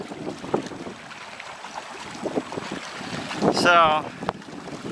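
Strong wind blowing across a lake on a canoe trip in the Boundary Waters and Quetico wilderness, a loud rushing roar with buffeting gusts on the microphone, while a person briefly speaks.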